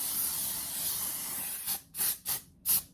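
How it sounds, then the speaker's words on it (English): Vampire Skin Spray, a silver glitter cosmetic body mist, spritzed onto a bare shoulder: a steady hiss runs under the opening, then four short, close airy bursts of spray follow in an uneven rhythm. "We still have to go around with the Vampire Skin Spray"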